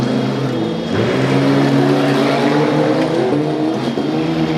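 Demolition derby cars racing around a dirt track, loud steady engine drone with revving and roaring close by, continuous throughout with no talk.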